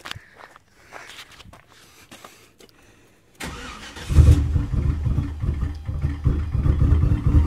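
After some faint clicks and movement, a car engine fitted with Holley Dominator EFI cranks and fires, then runs roughly with uneven, lumpy pulses from misfiring cylinders, close and fairly loud.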